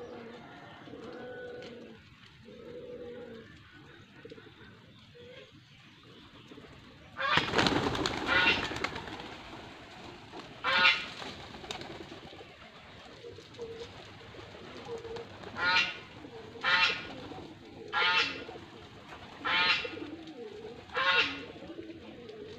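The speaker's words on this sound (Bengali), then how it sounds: "আনকমন কবুতর" A pigeon coos in a series of deep, rhythmic calls, fairly close, repeating at regular intervals after a short burst of noise.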